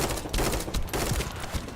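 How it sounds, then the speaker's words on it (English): Rapid bursts of rifle fire from a burst rifle in a video game, with sharp repeated shots grouped in quick clusters, loud and close. "I didn't know this was a burst rifle."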